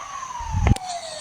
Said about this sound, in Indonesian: Kok bisa ya ketika ambulansnya mendekat suaranya semakin besar, dan ketika menjauh suara dari ambulans ini semakin mengecil?